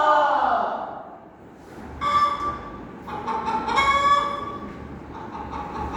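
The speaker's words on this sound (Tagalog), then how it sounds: "Isang manok." A chicken gives a few drawn-out, harmonic clucks and calls in two bursts after a low opening sound, moderately near, in a grade 4 classroom demonstration.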